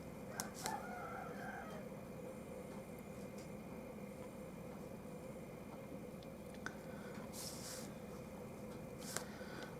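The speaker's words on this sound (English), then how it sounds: "You can hear the roosters outside." Roosters crowing at a distance outdoors, a few calls spread across the clip over a steady background hum.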